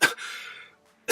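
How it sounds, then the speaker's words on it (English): Harsh coughing from a person alone in a room during a beginner drag makeup session: one loud cough burst, a fading breathy tail, a brief silence, then a second cough, close to the mic. "I cannot stop coughing."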